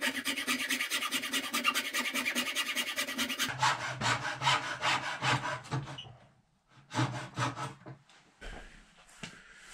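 A hand saw cutting through wood along a marked line, steady rhythmic rasping strokes up close, changing pace midway and thinning into scattered strokes toward the end.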